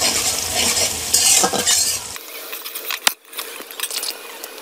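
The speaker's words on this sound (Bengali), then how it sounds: "এখন সব উপকরণগুলোকে হালকা করে ভেজে নেব কালার চেঞ্জ হওয়া পর্যন্ত।" Chopped onions and other ingredients for chira pulao fry in a pan with a hissing sizzle and metal utensil scrapes and clinks, the frying dropping away midway to leave sparse stirring taps.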